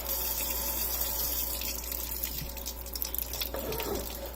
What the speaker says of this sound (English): I'm just going to use tap water.